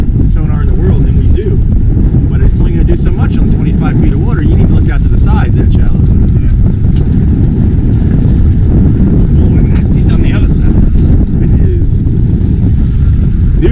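Strong, steady wind roars across the microphone while striper fishing on the water, heavy low rumble, constant and loud throughout, with faint scattered sounds above it.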